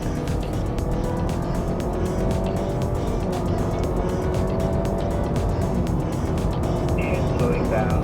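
Honda Civic Hybrid e:HEV accelerating hard at full throttle during a drag race, a loud continuous vehicle roar with a rising tone toward the end, people talking over it.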